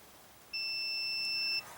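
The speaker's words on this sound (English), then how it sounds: "So if we get continuity, you'll hear that beep." A multimeter set to ohms gives a single steady electronic continuity beep for about a second, clear and close against quiet room hiss, while testing a Sears Suburban garden tractor key switch.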